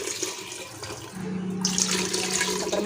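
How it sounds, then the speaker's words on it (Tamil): Water is poured into a cooking pot of rice and beetroot for biryani, giving a steady rushing splash that grows fuller and louder over the last half. "இப்போ நம்ம தண்ணி சேர்த்துக்கலாம்"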